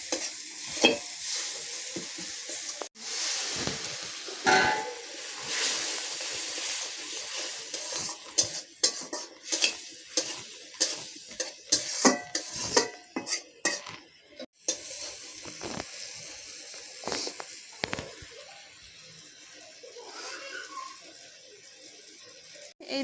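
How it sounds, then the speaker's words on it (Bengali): Spice paste stir-fried in oil for prawn malai curry, a close sizzle broken by repeated scraping and clattering spatula strokes against the pan, with a voice speaking at times over it. "এবার আমি মশলাটাকে ভালো করে কষাবো যতক্ষণ না মশলার গা থেকে তেলটা ছেড়ে যাচ্ছে"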